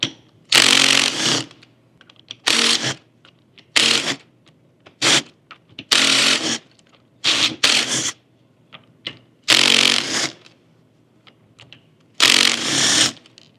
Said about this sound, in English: I'm removing the 10 ring gear bolts.